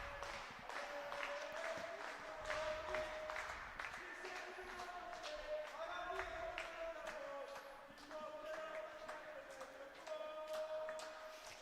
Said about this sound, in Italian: Intanto continuate a sentire i tifosi del gruppo Armata Trissinese che incitano la squadra prima dell'inizio delle ostilità